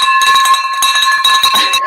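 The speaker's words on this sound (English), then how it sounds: "So Errol, we're going to ring the bell for you, brother." A bell rung to celebrate a closed wholesale real estate deal, clanging repeatedly in quick, bright, ringing strikes that overlap with sustained metallic tones, loud and close for a couple of seconds.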